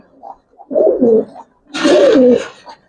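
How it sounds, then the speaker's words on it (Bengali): An old-lineage Giribaz pigeon coos close by in two throaty, rolling bursts, the second longer and fuller, with a brief soft murmur before them. "একবারে পুরান জাতের একটা কবুতর, ভাগা লাইনের ভিতরে"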